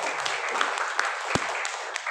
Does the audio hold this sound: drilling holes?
no